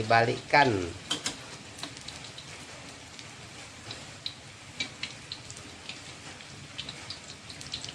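Stuffed tofu fries in hot oil with a steady, fine crackling sizzle and scattered pops, opening with a brief clatter and continuing evenly, fairly close.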